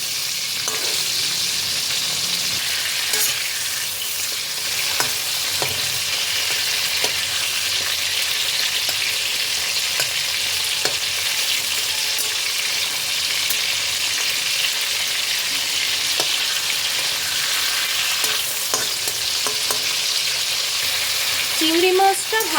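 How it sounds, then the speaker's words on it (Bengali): Prawns fry in hot oil with a steady, even sizzle, close up and continuous, with occasional stirring clatter and no talk over it. "চিংড়ি মাছগুলোকে উল্টে পাল্টে হালকা করে ভেজে নেব"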